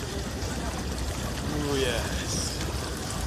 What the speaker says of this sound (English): Got the hot tub I'm about to step into real quick.